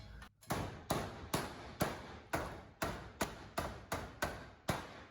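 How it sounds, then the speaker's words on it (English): Repeated sharp hammer blows on a metal garage door bracket, about ten evenly spaced strikes in a steady rhythm, close and ringing briefly after each hit. "So we need to hammer it back in place."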